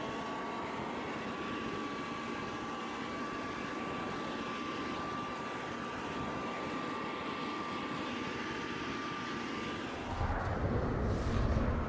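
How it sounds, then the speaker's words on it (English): A leaf blower blows dust off the deck of a Farrier F2 trimaran, a steady droning engine whine with a constant tone that swells louder and rougher toward the end. "The leaf blower."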